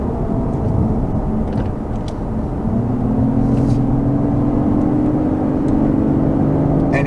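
The naturally aspirated engine of a 2022 Lexus IS350 F Sport AWD drones steadily from inside the cabin over road rumble, and its tone rises as it pulls.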